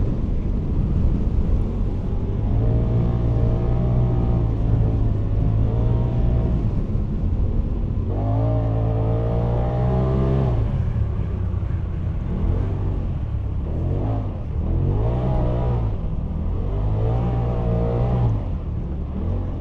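A 181-horsepower 2025 Polaris RZR Pro XP 4 Ultimate carrying four people through the Oceano Dunes, its engine roaring loudly and continuously with repeated rising and falling revs as it climbs and crests the sand.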